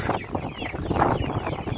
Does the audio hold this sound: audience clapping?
no